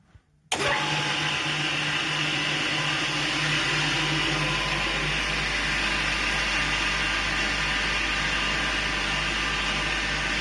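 A homemade hay cutter starts abruptly after a brief pause and runs at a steady loud whir with a strong low hum, its motor blowing air into a bag fitted to the outlet, close and continuous.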